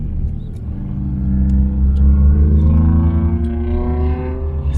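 A Toyota Supra time attack car climbing Pikes Peak pulls hard in second gear, its engine note rising steadily as it spools and revs close and loud, with a low rumble underneath and no talking.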